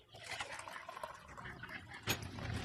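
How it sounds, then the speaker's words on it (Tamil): Water runs and splashes into an enema can, a soft, close, continuous liquid filling sound with a brief louder gush near the end. "இப்ப இதுல தண்ணி நிரப்பிக்கிடுவோம்."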